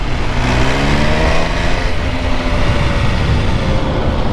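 An MV Agusta Superveloce 800 motorcycle accelerates hard with a quick shifter. A loud, steady engine note rises in pitch under heavy wind rush, with no talking.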